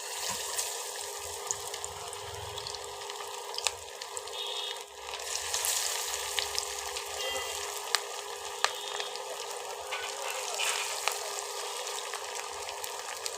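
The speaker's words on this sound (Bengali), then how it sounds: "এই যে বন্ধুরা ভাতের চপগুলো ছেড়ে দেব।" Bengali rice chops (bhaater chop) fry in hot oil over a low flame, a soft, steady crackling sizzle with scattered small pops, close by and fairly quiet, with no one speaking.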